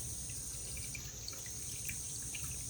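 Stream water still flowing beneath a dried-up upper stretch, a steady close trickling and rushing wash that stays even throughout with no voices.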